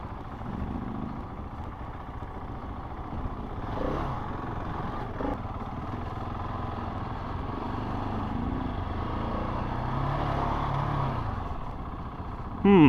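An adventure motorcycle rides a Texas rally route, its engine droning steadily at low revs under constant wind noise, with a sudden louder surge at the very end.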